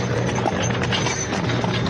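Horses pulling a coach, their hooves clip-clopping in a quick, steady rhythm close by, with no one talking over them.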